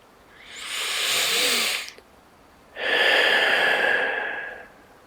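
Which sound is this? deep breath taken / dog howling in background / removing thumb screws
deep breath taken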